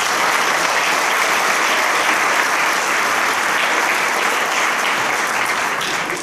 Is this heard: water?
no